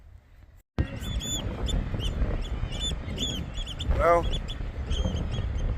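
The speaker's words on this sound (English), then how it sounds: "there's thousands of birds down there" A large colony of seabirds calls at a Scottish coastal cliff, a dense wash of chirps, squawks and cries heard from a distance, with a brief spoken word and wind noise over it.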